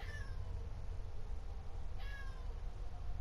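A pet cat meows twice, a short mew followed a couple of seconds later by another, both fairly close over a steady low hum of room or game noise.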